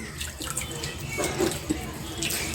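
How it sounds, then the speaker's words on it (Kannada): Hands being washed with soap under a running tap in a home kitchen, a steady gush of water with splashy bursts and rubbing, fairly close. "ಕೈ ಚೆನ್ನಾಗಿ ತೊಳಿತಾ ಇದ್ದೀನಿ. ಮತ್ತು ಹಾಗೆ ತೊಳಿತಾ ಇಲ್ಲ, ಸೋಪ್ ಹಾಕಿ."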